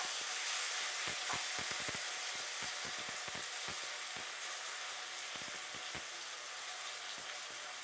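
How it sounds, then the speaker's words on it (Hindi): Arbi (taro root) fries on a high gas flame, a constant bright sizzle with a dense run of sharp spatula taps and scrapes against the pan, fairly quiet and without voices. "अरबी के साथ हम फ्राई करेंगे अच्छे से हमें फ्लेम हाई रखनी है गैस की क्योंकि हम फ्राई कर रहे हैं"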